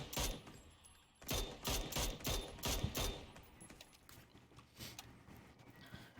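Video game gunfire during a competitive league match, a rapid series of sharp shots in short clustered bursts, fairly faint and fading toward the end.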